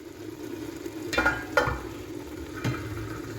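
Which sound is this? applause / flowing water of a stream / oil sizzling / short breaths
oil sizzling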